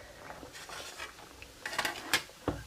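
Sheer khurma with roasted almonds, pistachios and cashews being stirred in a pot, soft wet scraping with a few light spoon clinks against the metal, quiet and close.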